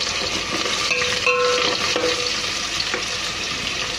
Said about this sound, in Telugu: ఆనియన్స్, పచ్చిమిర్చి వేస్తున్నాను. ఆనియన్స్, పచ్చిమిర్చి కొంచెం వేగాలి.